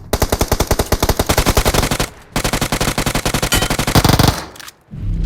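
Rapid automatic gunfire from a shooter video game, loud sustained bursts of closely spaced shots with a brief pause near two seconds and another gap before the end.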